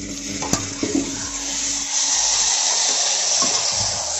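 Tomatoes frying with onions in a pan for a jackfruit kofta curry, giving a steady broad sizzle with a few sharp clicks of the stirring spoon near the start and no voices.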